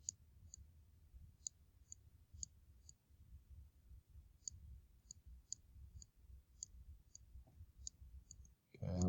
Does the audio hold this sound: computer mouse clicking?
yes